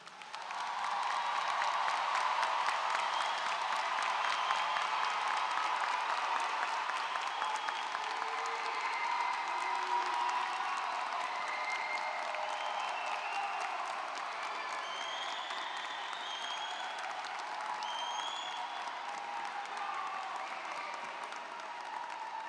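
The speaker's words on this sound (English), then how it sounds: "How about a round of applause for our graduates?" A high school commencement crowd applauds its graduates with sustained, dense clapping that runs the whole time, with scattered cheers and whoops mixed in, holding steady and fading only slightly toward the end.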